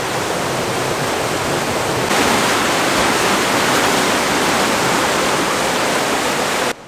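Water of the River Itchen rushes loudly and steadily through a working watermill that drives the cogs for grinding wheat into flour, a dense unbroken roar with no voices over it.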